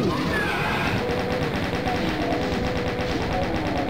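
Rapid automatic gunfire mowing down monsters in the classic shooter Doom on the level Toxin Refinery, a dense, continuous burst of shots that fills the whole stretch without a break.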